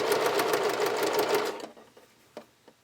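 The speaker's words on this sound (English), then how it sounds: "I'm going to just stitch this on, stopping where I drew that little dot in our previous step." A sewing machine stitches fabric for underwear, a fast, even mechanical whirring that runs steadily for about a second and a half, then stops, followed by a few soft clicks and taps.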